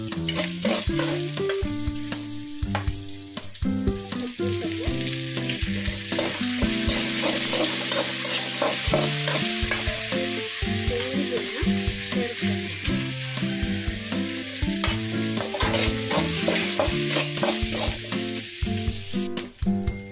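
Onions frying in oil while being browned for lemon rice, a continuous loud sizzle and crackle with stirring running throughout; no one speaks.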